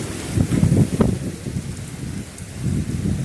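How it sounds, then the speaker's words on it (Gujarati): Rain falls during the monsoon sowing season on a farm, a steady close wash of drops with a gusty low rumble of wind buffeting underneath. "તો વરસાદ ચાલુ તો થઈ ગયો છે"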